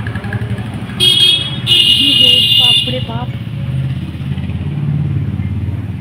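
A vehicle engine starts and revs close by, with loud, horn-like tones and mechanical clatter, while people talk over it.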